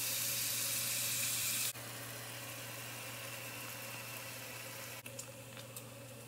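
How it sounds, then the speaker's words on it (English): Bacon renders on a stove, giving a steady, faint sizzling hiss over a low hum, broken by a couple of sharp clicks. "we got our bacon rendering behind us nicely on the stove"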